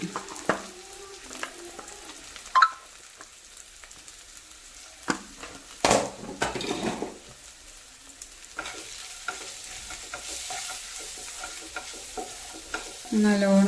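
Spices and chilli powder frying in a pan, with a soft background sizzle and intermittent scraping stirs and clinks of a spoon, close and fairly quiet.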